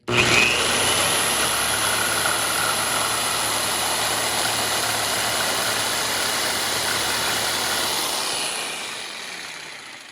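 A HYCHIKA jigsaw cuts through clamped wood with a loud, steady buzzing whine that holds for about eight seconds before tapering off as the blade finishes the cut.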